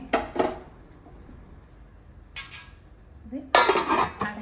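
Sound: pot lid being closed on curry pot

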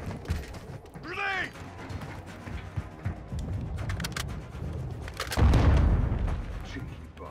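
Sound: grenade explosion in video game Modern Warfare 2

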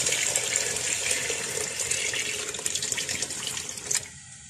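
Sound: pouring chicken stock into pot

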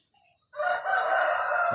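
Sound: Burmese fighting rooster crowing

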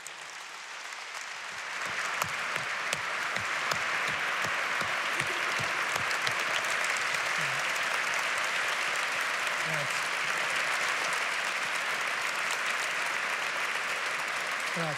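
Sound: audience applause welcoming piano maker Luigi Borgato

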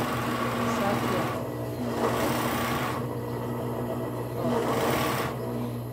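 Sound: sewing machine stitching a sleeve onto a children's bodysuit

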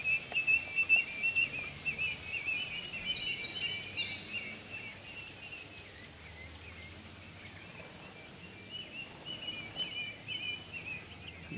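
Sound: northern bobwhite quail calling back and forth

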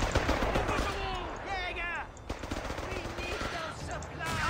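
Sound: machine gun fire in the video game Company of Heroes 3

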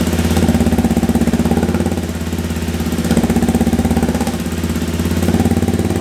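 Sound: Honda CRF300L big bore motorcycle exhaust revving

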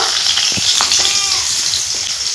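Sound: chopped onion frying with dry chilies, cumin, bay leaf

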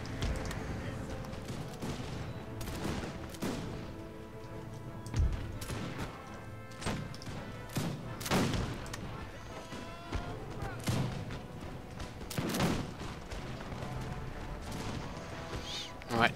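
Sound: musket volley fire in video game Empire Total War

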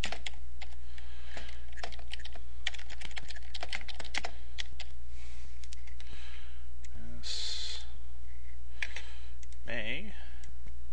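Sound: typing an email address on a computer keyboard

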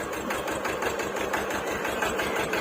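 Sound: Hinomoto E18 two-cylinder tractor engine running

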